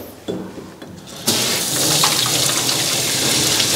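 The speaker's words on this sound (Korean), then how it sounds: "자, 이렇게 뒤에서부터 샤워기를 밀착을 시켜요." Water from a handheld shower spraying onto a dog during a bath, starting with a brief splash before opening into a steady, loud hiss of running water.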